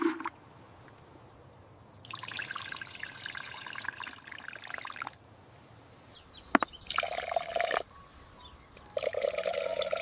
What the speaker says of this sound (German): Die Pflanzen mit dieser Düngung direkt an den Wurzeln gießen.